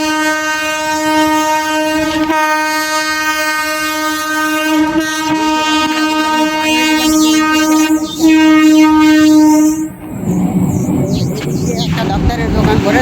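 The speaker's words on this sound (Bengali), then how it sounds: "সামনে দিয়ে ট্রেন আসছে" A train rumbles past close by with a loud sustained horn tone, then a burst of rushing wheel and wagon noise as it goes by.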